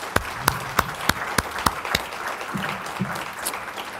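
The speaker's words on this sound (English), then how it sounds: "let's give them a round of applause as well" A symposium audience gives brief applause that opens with a series of distinct, evenly spaced claps and then thins into a softer scatter of clapping.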